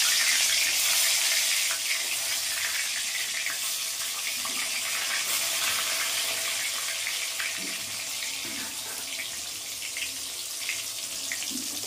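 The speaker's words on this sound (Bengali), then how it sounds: "এবার আলুগুলোকে আগে লাল লাল করে ভেজে নেবো" Potato pieces rubbed with salt and turmeric fry in hot oil in a wok, giving a steady, close, bright sizzle and hiss that continues evenly with no talking.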